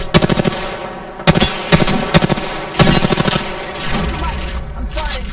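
Rapid automatic gunfire in Apex Legends during a ranked match, loud close bursts of machine-gun fire separated by brief pauses, with a faint voice under the shots.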